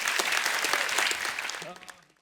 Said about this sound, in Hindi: एक बार फरहान और प्रियंका के लिए जोरदार तालियां।